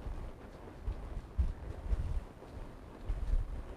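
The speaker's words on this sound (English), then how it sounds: "The wind's coming up." Wind blowing outdoors at a western dressage training session, gusting in uneven low buffets against the microphone, rising and falling over a few seconds with no talking.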